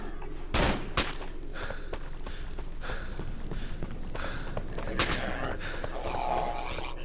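Gunshots in the horror video game Cry of Fear: a few sharp, loud cracks stand out against a steady game ambience, with two main bursts spaced several seconds apart.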